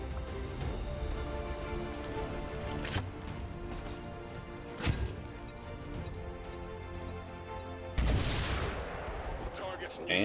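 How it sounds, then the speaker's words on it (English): A grenade-launcher round exploding against Mutons in XCOM 2: War of the Chosen, a sudden loud crash near the end that follows earlier sharp bangs, heard over steady background music and a speaking voice. "if I just lob a grenade over there, I can take out both Mutons, guaranteed"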